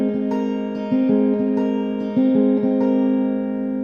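A guitar plays a fingerpicked pattern from a song, with clear plucked notes in an even rhythm ringing over held chords, close and alone.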